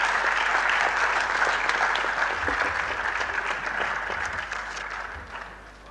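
A lecture-hall audience at a maritime studies annual lecture gives a guest a round of applause, dense sustained clapping that gradually tapers off toward the end.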